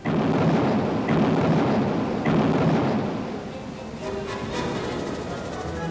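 Deep, heavy booms of 16-inch battleship guns firing at Iraqi coastal defenses in Kuwait roll out one after another, each blast trailing into a long rumbling echo.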